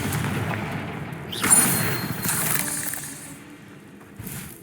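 Confringo blasting spell from Hogwarts Legacy bursting in a fiery explosion, a sharp crack then a rolling boom and debris rumble, followed by a smaller thud a few seconds later.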